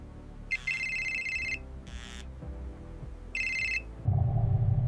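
Telephone ringing sound effect: three short electronic rings with a pause between them, close and clear, then a low hum takes over at the end.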